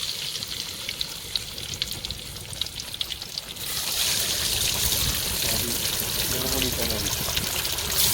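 Quail fries in hot oil in a Kerala village kitchen, a soft crackle that swells into a loud, dense, steady sizzle partway through, with faint voices in the background.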